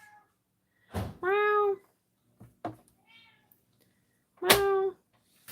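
A pet cat meows twice, close and clear, with a drawn-out first call and a louder second one, in a quiet room where someone gives a brief exclamation between small clicks and taps.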